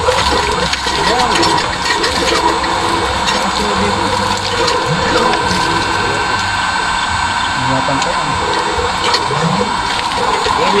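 Solar-powered water pump on a farm sending out a loud continuous rush of flowing water, steady and close, with people talking over it.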